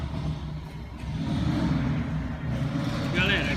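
A Ford Fusion engine, just re-timed after running out of timing and making noise, runs with a steady low rumble at close range while someone talks over it.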